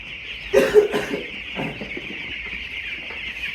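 Ten-day-old broiler chicks peep steadily in a poultry shed, a continuous high chirping chorus with a couple of louder bursts near the start.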